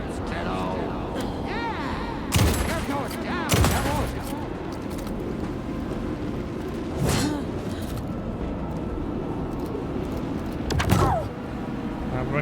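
Gunfire in the survival horror video game Alan Wake II, a few loud shots standing out over dense game sound and tense speech throughout.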